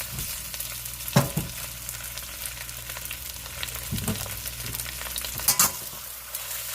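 Beef and broccoli fry in a regular pan over medium-high heat, a steady close sizzle with occasional louder scrapes and clatters from stirring, no voices.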